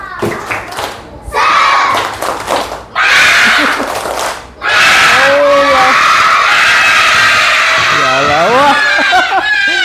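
A school class performs a loud spirited clapping chant for the teacher: rhythmic group clapping and shouted chanting from many children, close and loud, with bursts of cheering and laughter.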